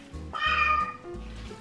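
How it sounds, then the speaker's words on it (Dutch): A cat making strange, drawn-out meowing sounds, a few wavering yowls close by in a kitchen, with low droning background noise underneath. "Kat kan zulke rare geluiden maken."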